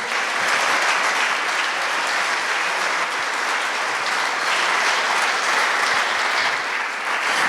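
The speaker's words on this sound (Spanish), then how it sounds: "¿Por qué no le levantan un fuerte aplauso a nuestro Dios?" A church congregation claps together in praise of God, a dense, steady round of applause that holds loud and even throughout, with no voices standing out.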